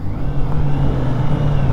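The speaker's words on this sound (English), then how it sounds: "we're gonna get past this loud car here" A loud car engine rumbles steadily at close range while being overtaken by a 2023 BMW K1600B touring bagger motorcycle on the road, a continuous low drone with no talk.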